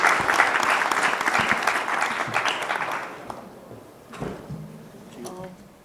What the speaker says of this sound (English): please give a big round of applause to all our panelists